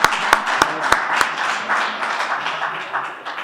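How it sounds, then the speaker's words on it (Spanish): Audience applause at a Spanish patient forum, a few sharp opening claps blending into a fading wash of clapping from a seated crowd in a hall. "Un aplauso para Iñaki, por favor."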